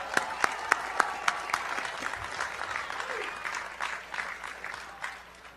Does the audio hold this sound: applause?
yes